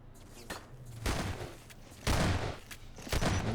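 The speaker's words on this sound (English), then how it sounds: "Really, really strong shotgun volley there" Blasts from shotguns in a Half-Life 2 Deathmatch one-on-one, several sharp, loud bursts arriving in uneven succession, with one heavy, longer blast near the middle and no talking over them.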